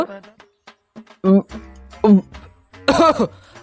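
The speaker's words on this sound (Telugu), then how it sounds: "అత్తాంది దగ్గు" A villager in a village comedy skit coughs three times, each a loud, rough, throaty burst, with short spoken bits between them.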